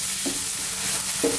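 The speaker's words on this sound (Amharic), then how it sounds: "ከዛ ሽንኩርታችንን እንጠብሳለን። ከዛ አንድ ደቂቃ በደንብ ጥብስ እናደርገዋለን።" Onions fry in a pan for a potato and cabbage dish, a steady close sizzle broken by two soft knocks of stirring.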